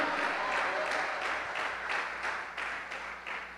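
A church congregation applauding together, a dense and loud burst of clapping with rhythmic pulses running through it, tapering slightly toward the end.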